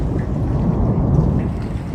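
Strong wind over Tehri Lake roars continuously, buffeting the microphone with a deep, rumbling gust that never lets up.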